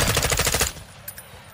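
Rapid machine gun fire from the Warzone 2 video game, a fast loud burst of evenly spaced shots lasting under a second, then a few faint distant pops.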